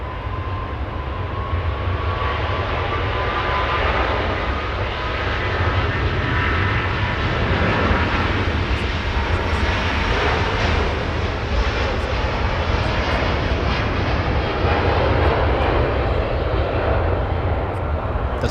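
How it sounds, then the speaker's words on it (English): Airbus A350 jet engines roaring at Los Angeles International Airport, a loud, steady broadband rumble that holds strong for the whole stretch with a faint whining tone drifting through it. "Let's take a listen to the roaring engines on that A350."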